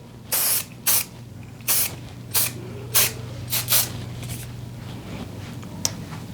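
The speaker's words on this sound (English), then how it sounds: "Some spray." Hairspray misted over a flower-adorned hairstyle in short hissing bursts, about eight quick sprays in a row, close and fairly loud over a low steady hum.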